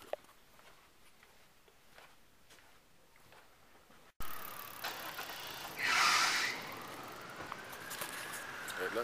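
A car roars past nearby, its engine note rising and swelling over a couple of seconds before fading, with steady outdoor background noise.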